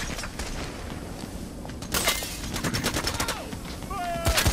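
Gunfire during a bank heist in Payday: The Heist, rapid bursts of crackling shots and a fusillade that grows denser and louder midway, with some mechanical clatter in between.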